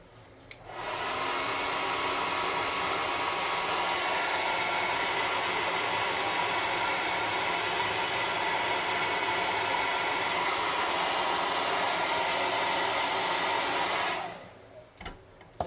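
A loud, steady hiss of blowing air starts abruptly, holds for about thirteen seconds, then cuts off.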